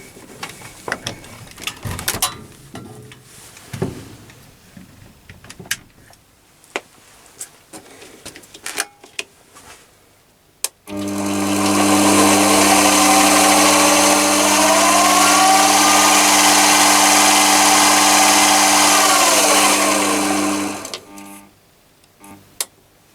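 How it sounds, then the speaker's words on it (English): A Chinese mini lathe with a potentiometer speed controller whirs up after scattered handling clicks and knocks, running as a steady loud hum with a whining tone for about ten seconds, then winds down. "you're ready to give the lathe a test"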